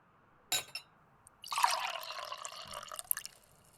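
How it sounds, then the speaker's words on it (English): Water is poured to refill a drinking glass, a brief clink followed by a steady trickling fill lasting about two seconds, close and fairly quiet, ending with a small knock of the glass being set down. "Let me refill your water glass."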